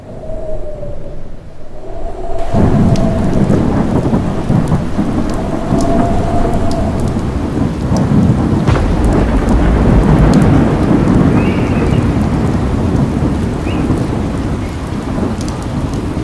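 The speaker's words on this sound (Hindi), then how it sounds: "बारिश शुरू हो चुकी थी। तेज हवाएं चल रही थी।" Heavy rain pours down in a thunderstorm with strong wind, a dense steady hiss punctuated by rolling thunder rumbles, loud and continuous after a quieter opening.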